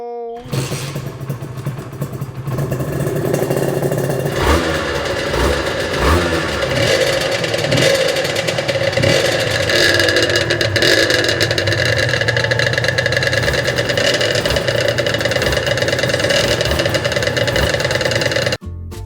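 A Honda NSR250 and a Suzuki RGV250, both two-stroke motorcycles, are ridden. Their engines rev and whine loudly and continuously up close, rising and falling through the gears for nearly twenty seconds.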